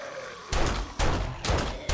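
Gunshots ring out in the 7 Days to Die co-op zombie game: four loud, sharp reports in quick succession, roughly half a second apart.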